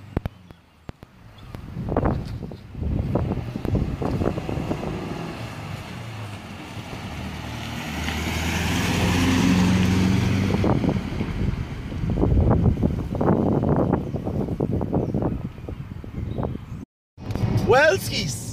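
A Rover P6 3.5 V8 driving on a coast road, its engine rising and falling under buffeting wind, with people talking intermittently over it.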